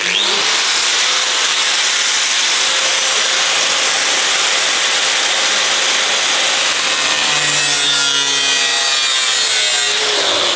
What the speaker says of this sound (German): Jetzt holen wir mal die Säge.